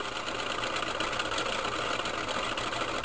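Three-phase AC induction motor coasting down after the power is cut, giving a steady, continuous mechanical whir and hum at moderate level, fairly close, with no clear pauses.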